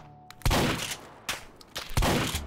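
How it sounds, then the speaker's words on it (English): Shotgun from the Meat Fortress set firing in the VR shooter H3VR: three loud, booming blasts, each with a sharp attack and a short tail, spaced about three-quarters of a second apart. "Now the new Meat Fortress shotgun."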